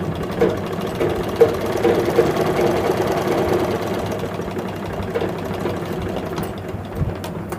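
An electric sewing machine runs steadily, stitching a nightie seam in a tailoring lesson, with a continuous motor hum and rapid needle chatter at close range throughout, and no talking.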